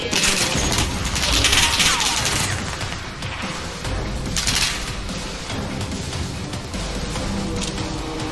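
Dense in-game gunfire from Call of Duty Warzone Pacific, a loud continuous fusillade of shots and bursts with crashing impacts layered over a busy battle mix, no clear speech on top.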